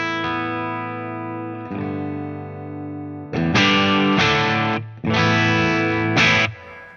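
An electric guitar plays through a Friedman BE-OD Deluxe overdrive pedal set nearly clean into an EL34 amp. Soft sustained chords ring out first, followed by louder, harder-picked bursts with slight grit.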